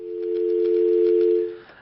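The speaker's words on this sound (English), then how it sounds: "The dial tone is not going to talk to us." Telephone dial tone: a single steady, unbroken hum held at even loudness for under two seconds, then cutting off abruptly, heard alone with no voices.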